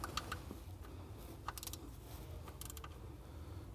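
A bolt is tightened on the camshaft position sensor of a 2002 Ford F150, giving faint, quiet ratcheting clicks and creaks in short bursts over a low background hum.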